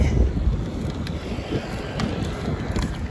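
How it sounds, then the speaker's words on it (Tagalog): Steady blustering wind buffets the microphone during a motorcycle ride on a hot day, a loud continuous low rumble with gusty surges and no pauses, close and unbroken from start to end. "Buti na, may hangin-hangin."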